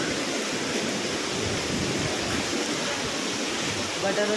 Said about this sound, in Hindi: तो ये सारे बारिश के पानी बह रहे हैं, ये इतने सारे, काफ़ी तेज़।